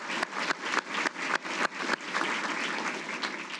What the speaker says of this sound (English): A round of applause, please, for all of the participants and organizers of today's ceremony